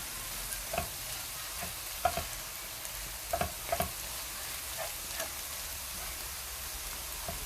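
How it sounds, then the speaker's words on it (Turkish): Mixed wild herbs fry in oil in a pan with a soft, steady sizzle, while a spoon scrapes and stirs them in several distinct clicks and taps spread across the span. "Tekrar bir tur daha karıştırıyorum."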